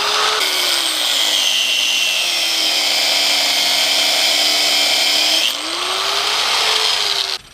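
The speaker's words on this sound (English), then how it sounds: "I using my grinder to grind it out." An angle grinder cuts into the wheel bearing hub of a 2006-2012 Toyota Camry or Avalon, a loud sustained high whine that drops in pitch under load, then spins back up before stopping.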